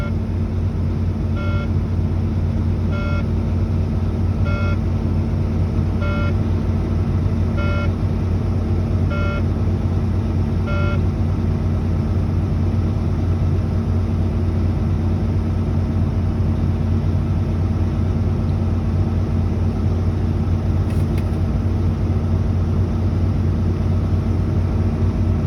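A truck engine idles steadily in the cab during a CDL pre-trip check as air brake pressure builds, a constant low rumble with a faint series of evenly spaced beeps early on.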